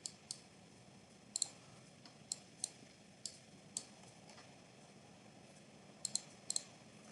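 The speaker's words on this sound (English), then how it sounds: "when we click create" A computer mouse clicking while drawing in 3D modelling software, a dozen or so sharp, quiet clicks spaced irregularly, some in quick pairs, over faint room hiss.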